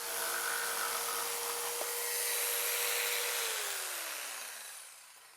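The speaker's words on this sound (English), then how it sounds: "move my thumb onto my right hand to help steady the saw and make a clean cut" A power saw cuts a baseboard plinth, making a loud, close, high-pitched whine with a descending tone as the blade winds down after the cut, over several seconds without speech.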